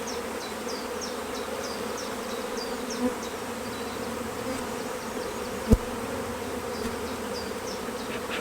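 Honey bees hum at an open hive during queen rearing, a steady low buzz with faint bird chirps in the distance and a single sharp knock.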